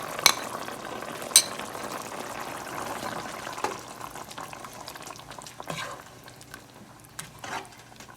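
Ground coconut is stirred into a simmering Malabar chicken curry, giving a quiet, bubbling simmer under soft scraping and clinking from the spoon, with a few sharper knocks against the pot.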